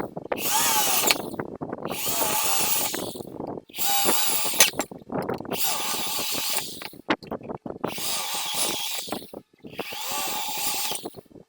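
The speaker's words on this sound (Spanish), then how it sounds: "realizamos las perforaciones" Power drill boring holes through a wooden board, several loud whirring bursts of about a second each separated by short pauses, close by.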